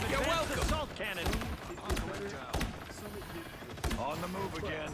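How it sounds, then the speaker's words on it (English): Rapid heavy cannon bursts from an assault cannon in the game Marvel Rivals, a dense run of punchy blasts with short gaps and several sharp peaks, loud and close amid game effects. "Assault cannon!"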